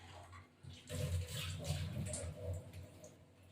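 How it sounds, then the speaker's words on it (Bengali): A metal kebab skewer is rinsed under running water, splashing and trickling in bursts with a steady flow in between, close by, no talk. "প্রথমে শিকটাকে এরকম ধুয়ে নিয়েছি"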